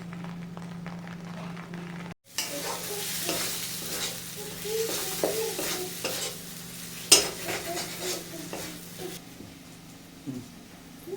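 Pea (green peas) kachori filling stirred and fried in oil in a wok over a low flame, with a steady sizzle and repeated scraping stirs. A brief pause early on, then continuous frying to the end.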